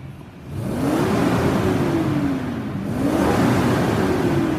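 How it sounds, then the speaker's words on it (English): A 2004 Toyota Sequoia Limited's engine starts and is revved, rising in pitch twice over a steady idle drone, loud and close. "Let me start it up for you and rev it up quick."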